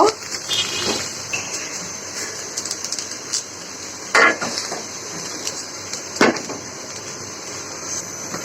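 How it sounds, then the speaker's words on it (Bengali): A metal tawa griddle is set under a pan on a home stove, making sharp clanks and scrapes of metal on metal. The knocks come at scattered moments over a steady low hum. "এখন আমি প্যানটার নিচে একটা তাওয়া দিয়ে দিব।"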